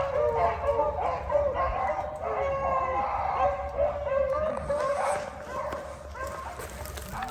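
Several beagles bay and yelp continuously at a moderate distance while running a swamp rabbit trail, their overlapping cries rising and falling in an outdoor setting.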